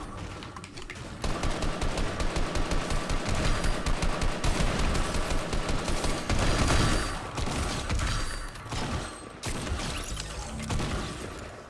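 Gunfire in Fortnite, a dense crackle of rapid shots with mechanical clatter, sustained for several seconds at moderate level, then dropping into sparser bursts and short gaps.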